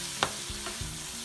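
Fresh small shrimp are sautéed with masala in oil and onion in a pan, a steady close sizzle with a sharp spatula scrape and a few softer stirring knocks.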